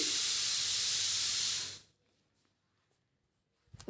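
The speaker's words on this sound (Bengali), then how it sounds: "এবার ভেজে নিচ্ছি ভালো করে ভেজে করে আস্তে আস্তে করে তুলে নিচ্ছি" Tangra fish frying in hot oil gives a loud, steady sizzling hiss that cuts off abruptly, leaving near silence before a brief clatter at the end.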